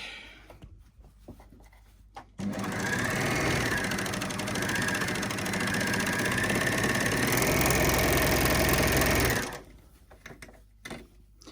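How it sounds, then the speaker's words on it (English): A sewing machine stitching the base seam of a fabric bottle gift bag, starting abruptly and running in one steady, close, rapid whirring burst for about seven seconds before stopping, with quiet handling before and after. "now we're going to stitch the seam at the base of the bag"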